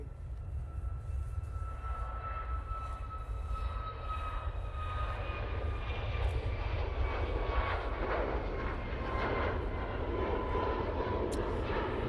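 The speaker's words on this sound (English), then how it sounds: "There goes Ryanair 737 MAX 8." Ryanair Boeing 737 MAX 8 taking off from Manchester Airport, bound for Alicante, a steady distant engine roar with rumbling low end and faint whining tones, holding constant across the whole stretch with no talk.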